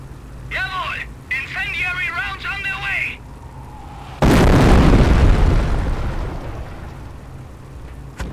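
An artillery barrage of incendiary rounds in the Company of Heroes video game lands with one loud, booming explosion that rumbles away, after spoken game voice lines.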